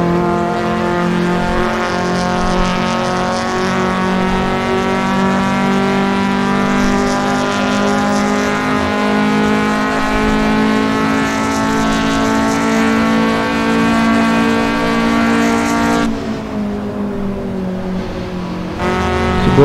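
A Toyota AE86 engine in the Assetto Corsa racing game drones loud and steady at sustained revs, its harmonic whine holding nearly constant before briefly dropping and recovering near the end, with no talk over it.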